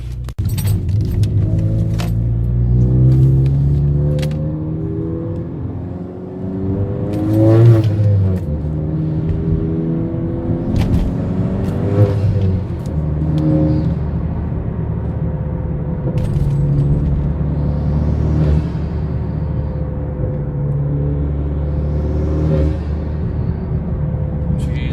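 A 10th-generation Honda Accord Turbo being driven after a custom clutch master cylinder install: steady engine rumble and road noise from inside the cabin, with a few swells as it accelerates, light rattles, and a voice talking at times.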